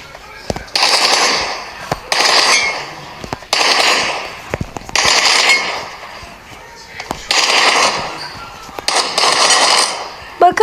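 M416 assault rifle fire in PUBG Mobile, a team deathmatch round, heard as several loud sustained bursts of rapid automatic shots separated by short pauses, with someone talking over them.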